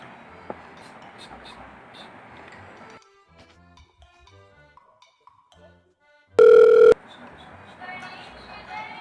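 A phone rings in one loud, steady electronic burst of about half a second, set between stretches of quiet room sound and murmured background voices.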